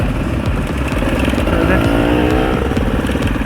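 A dirt bike engine drones steadily while the rider is on the move, loud and close throughout with a continuous rumble and a slight rise in revs midway, and no voice is heard over it.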